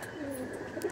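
Andhra red-headed pigeons coo softly in a brief, close burst of low throaty calls, with faint background noise and no talk.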